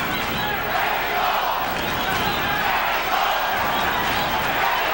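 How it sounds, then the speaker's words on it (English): Arena crowd at the 1990 Julio Cesar Chavez vs. Meldrick Taylor boxing fight chanting Mexico: a loud, continuous roar of many voices that stays heavy and unbroken throughout. "Crowd chanting Mexico, Mexico, trying to lift Chavez up."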